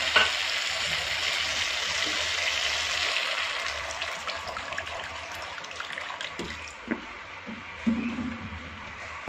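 Water poured into a sizzling pan of hilsa fish curry with potato and eggplant, a loud hissing sizzle that slowly settles into quieter bubbling, with a few clinks near the end.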